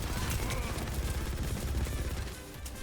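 Rapid automatic gunfire from Mauga in Overwatch rattles continuously in dense bursts, close and loud, with game effects mixed in and a voice talking over it.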